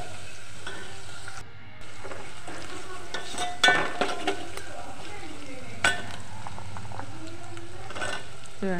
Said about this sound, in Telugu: ఆనక్కాయ ముక్కలన్నీ వేసుకొని మంచిగా కలుపుకోవాలి.